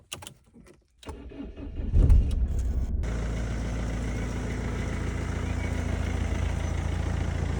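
An old, worn-out car sets off on the road from Lyon toward Milan early in the morning, its engine starting up and then droning steadily and loudly at close range with constant road rumble and no talk.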